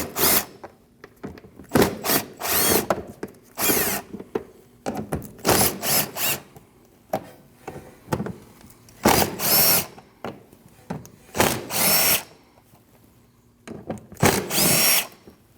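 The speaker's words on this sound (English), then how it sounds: "Now you can remove 6 of your 7mm bolts." A power tool spins out 7mm bolts under the front fender area of a 2013-2019 Ford Escape, loud close whirring bursts repeating in short runs with quiet gaps between them.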